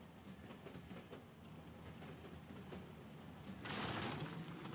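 A train rolling through a tunnel in a video game, a faint continuous rumble with soft clatter that swells into a brief louder rushing burst near the end.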